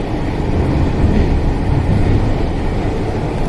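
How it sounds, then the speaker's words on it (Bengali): A Kolkata metro train on the Dum Dum to Dakshineswar line is heard from inside as a loud, steady low rumble of wheels and motors running continuously without a break. "এই ট্রেন যাচ্ছে"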